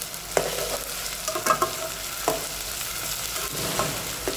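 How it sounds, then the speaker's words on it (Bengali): Salted onions fry in a pan with a constant close sizzle, joined by repeated light scrapes and clinks from stirring. "হালকা ব্রাউন হওয়া পর্যন্ত আমি কন্টিনিউ এবার নাড়িয়ে যাব"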